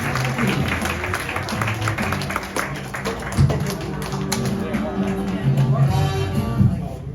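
A comedy-show audience applauds the comedians with steady, dense clapping that runs throughout, layered over a sustained tonal background and crowd murmur.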